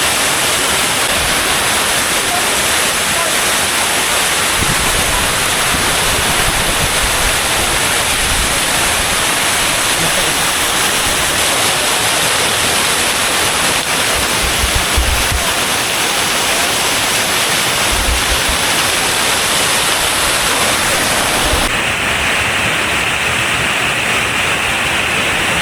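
A waterfall at a cold spring resort in San Pablo, Laguna roars as a loud, continuous broadband rush of falling water with a few low thumps.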